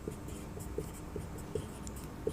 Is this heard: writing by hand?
yes